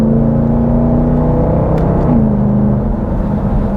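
A 2021 Dodge Durango SRT 392 AWD engine revs hard under acceleration, a loud, steady low roar that climbs in pitch, dips briefly at a paddle-shifted gear change, then pulls on.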